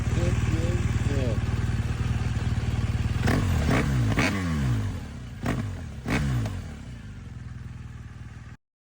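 Loud, close BMW R1200GS boxer-twin motorcycle engine idling with a rough, throbbing rumble, then blipped through several sharp revs that rise and fall before cutting off abruptly.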